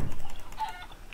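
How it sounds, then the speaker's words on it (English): A chicken in Minecraft clucking as it is attacked during a Mineplex Bridges game, a short burst of game sound effects with a brief cluck over faint clicking. "Kill this chicken."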